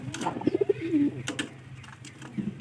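White pigeons cooing nearby, a short run of rising throaty coos followed by a drawn-out low call, with quieter coos and faint clicks afterward.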